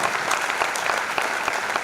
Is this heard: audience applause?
yes